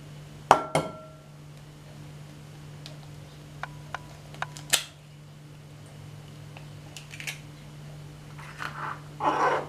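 Three eggs cracked one after another into a mixing bowl for pancakes, heard as a few sharp, close taps and clicks of shell against the rim with quiet pauses between.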